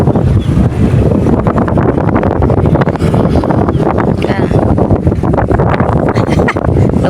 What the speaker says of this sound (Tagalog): Lakas ang hangin, no?